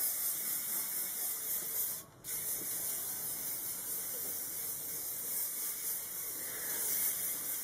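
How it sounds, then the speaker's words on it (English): Hairspray hisses from an aerosol can over a head of hair, a long steady close spray with one brief pause, then continuing evenly. "So I'm just going to apply some hairspray all over my head."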